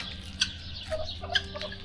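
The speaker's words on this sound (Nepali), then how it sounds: "टर्की होला यो चाहिँ" A turkey in a bird breeding pen in Saudi Arabia gives two brief, fairly close gobbling bursts over a low background hum.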